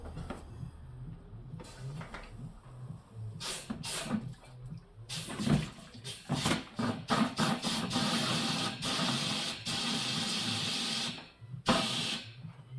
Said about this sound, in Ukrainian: Почала пічка продуватися.